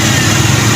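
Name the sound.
Toyota Kijang 7K car engine starting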